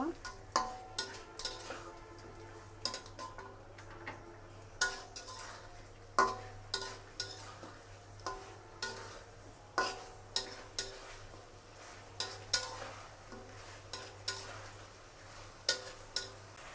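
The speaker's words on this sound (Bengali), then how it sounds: "এখন আমি ভেজে রাখা মাংসগুলো দিয়ে দেব এবং মাংসর সাথে খুব ভালো করে মশলাটা কষিয়ে নেব" Fried chicken pieces are stirred with spice paste in a pan, a quiet low sizzle under regular sharp taps and scrapes of a spatula against metal roughly every second.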